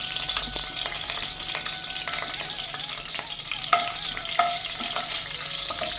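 Dried red chillies fry in hot oil with whole cinnamon and cloves, giving a steady, close, crackling sizzle. A couple of sharper pops or utensil clicks break through near the end.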